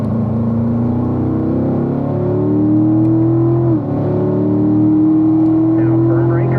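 C7 Corvette Stingray engine pulling hard down the front straight at Spring Mountain, a loud rising roar with a brief dip at a gear change before climbing again, while someone talks over it.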